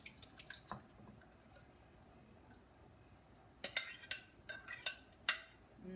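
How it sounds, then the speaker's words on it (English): Sauce poured over a cooked dish, heard as a few faint drips, then a run of close, sharp clinks and scrapes as a utensil stirs it in a pan or bowl. "Now, all you have to do is add this delicious sauce all around."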